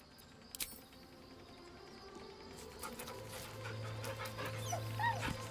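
Scratch, a dog in Baldur's Gate 3, whimpers and pants softly, with a short sharp sound early on and faint whining tones near the end over quiet game ambience.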